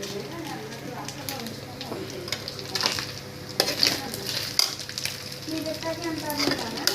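Prawns frying in oil in a home kitchen pan, a steady sizzle with occasional clinks and stirring scrapes of a utensil against the pot, someone talking over the cooking throughout.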